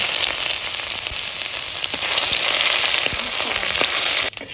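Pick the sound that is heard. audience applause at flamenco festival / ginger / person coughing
ginger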